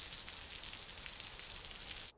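Steady cartoon rain pours down at a street funeral, a dense even hiss of falling drops for about two seconds before cutting off abruptly, with no talk.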